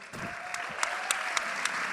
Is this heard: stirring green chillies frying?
no